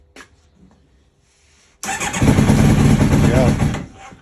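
A Kawasaki ZX9R motorcycle that has sat in storage for a year cranks briefly with a couple of faint turns, then catches and fires into a loud, steady running roar that settles near the end, with a voice heard early on.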